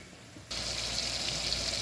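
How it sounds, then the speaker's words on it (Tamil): Water splashes from a pot or tap into ground masala of coconut, fennel and chicken masala while cooking black chickpea curry. After a short quiet start, a sudden, steady hissing pour runs to the end, with no one talking. "அரைச்சி வச்சுருக்க மசாலையை இதில் கொஞ்சம் தண்ணி சேர்த்துருக்காங்க"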